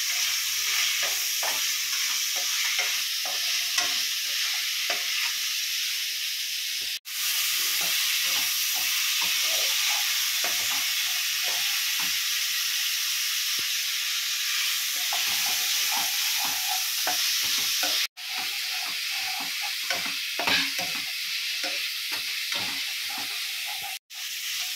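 Chicken with pepper and salt stir-frying in a pan for a chicken broccoli dish: a loud, continuous close sizzle with frequent spatula scrapes and tosses, briefly cut off twice before resuming.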